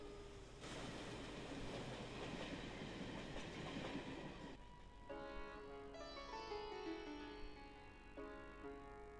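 Train rolling along a railway track with a steady, dense rumble and rattle, followed by a layered tonal whine as the wheels continue on the rails, fairly continuous and moderately distant.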